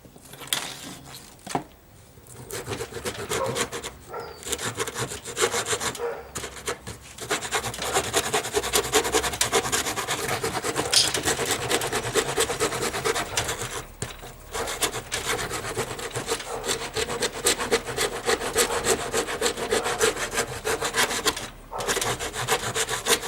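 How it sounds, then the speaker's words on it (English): A fine round file rasps against wood on a homemade guitar neck rest in a small shed, producing steady, close scraping strokes that run almost continuously with a few brief pauses. "I'll use the round end of this much finer file"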